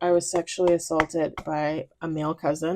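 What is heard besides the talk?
No everyday noise stands out behind the speech.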